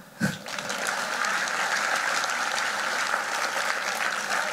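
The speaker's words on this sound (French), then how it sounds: "On peut applaudir un peu?" Audience applause at a graduation ceremony, a sharp first clap then a dense, steady round of clapping from a large crowd that holds strong throughout.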